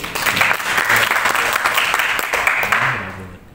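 Loud, close applause from a room of teachers at a best-practice competition, dense clapping throughout with faint voices underneath, fading at the very end.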